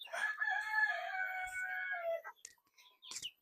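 A rooster crows loudly and close by in one long drawn-out call, followed by a few brief clucks and scratchy sounds, at a farm at the foot of Mount Apo, Philippines.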